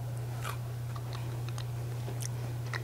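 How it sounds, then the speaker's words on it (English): Someone chews a mouthful of fresh jalapeno salsa, soft irregular crunches and bites close to the mic over a steady low hum. "So I'm going to give this a taste."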